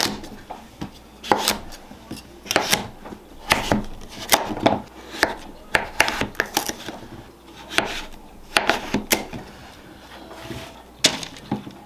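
A knife chops food on a cutting board in a home kitchen, steady close rhythmic strokes repeating throughout, with no talking over them.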